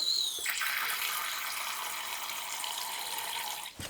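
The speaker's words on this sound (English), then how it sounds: "Fill the water bowl up" Tap water pours steadily into a tarantula's water bowl, a close, continuous splashing hiss that runs without a break for several seconds, with no talking over it.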